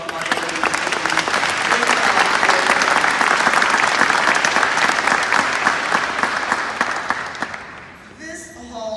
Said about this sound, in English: Can we get one more round of applause for our ladies?